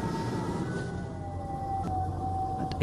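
Inside a city bus in the OMSI 2 simulator, a small electronic beeper gives a thin, steady high tone over the low drone of the running bus.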